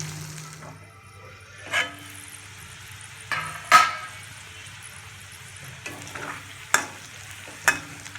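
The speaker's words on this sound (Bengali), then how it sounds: "হলুদ আর লবণ দিয়ে মাখিয়ে নিয়েছি, এবার আমরা ভেজে নেব।" Potato pieces coated in turmeric and salt fry in oil in a covered pan, giving a low steady sizzle. A few sharp knocks and scrapes of stirring break in at irregular intervals.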